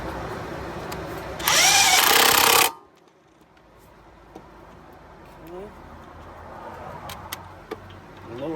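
A big impact wrench works on the wheel bearing bolts of an Acura TSX's front hub: one loud, dense burst lasting about a second, then quiet garage ambience with light metallic clicks and people talking faintly.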